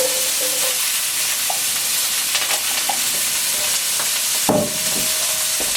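Chopped onion hits a hot pan in an indoor Viking-style cooking setup, a loud, continuous sizzle with scattered scraping and clattering from the pan, close by.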